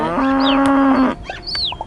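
Cow mooing in a cartoonish farm video game, one long steady moo close and clear, followed by short chirpy game sound effects and light blips.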